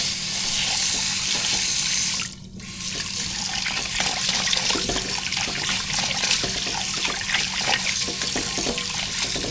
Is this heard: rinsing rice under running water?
yes